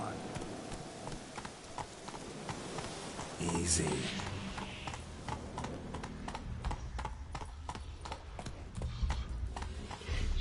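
A black horse in The Witcher 3 clip-clops at a steady trot, hoofbeats regular and close under ambient game noise, with someone speaking briefly and a louder rustle partway through.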